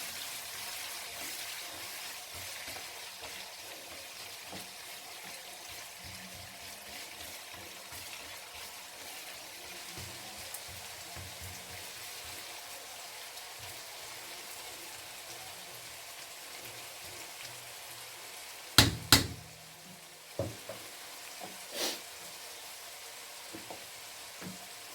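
Onions and reddened cumin frying in oil for mutton karahi: a steady, fairly quiet sizzle and crackle throughout, with a few sharp knocks near the end and no talk.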